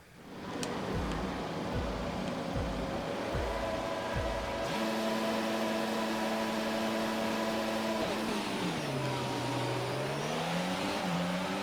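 Race cars in the F1 22 video game at the Imola Grand Prix start: engine notes rev up in layered whining harmonics, then sustain and bend as the field launches, loud and continuous throughout.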